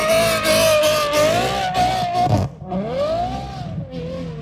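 A Ferrari F12 with a V12 engine revs hard in snow, its loud, close engine note rising and sweeping, then dipping briefly before climbing again.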